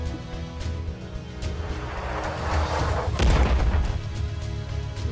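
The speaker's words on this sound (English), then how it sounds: "Bloody firing artillery" Artillery fire in a tank video game rumbles in deep booms that build toward a heavier blast near the middle, moderately loud with a few sharper crackling hits, no one talking.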